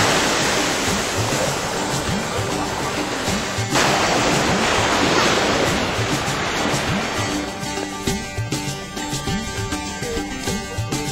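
Waves washing onto a steep pebbly beach at the waterline of a Turkish golf and spa resort, a steady broadband surf wash with surges and some rattling texture, continuous and fairly close, with no talk.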